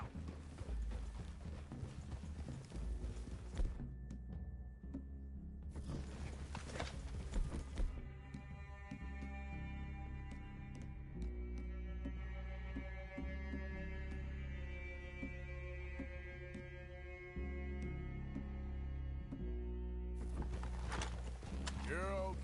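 Horses walk with steady clip-clop hoofbeats in the video game Red Dead Redemption 2, heard under bursts of talk and a swelling musical score.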